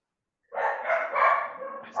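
A dog barks a few times close by in a quiet indoor setting. The barks come in quick, uneven bursts after a moment of silence, with one more bark starting at the very end.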